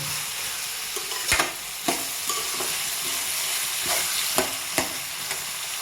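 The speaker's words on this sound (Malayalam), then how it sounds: "ഈ ഉള്ളിയൊക്കെ ഉള്ളിയും പച്ചമുളകൊക്കെ നല്ലോണം മൂത്തോളും പെട്ടെന്ന്" Onions and green chillies fry with coconut and salt in a pan, giving a constant bright sizzle broken by several sharp stirring scrapes, close and with no talking.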